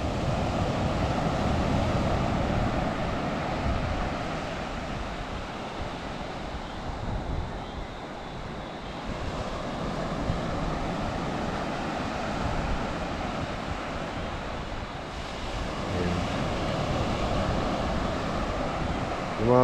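Rough, choppy sea surf breaking on a beach at sunrise, a steady loud broadband wash with wind buffeting the microphone throughout, no clear voices.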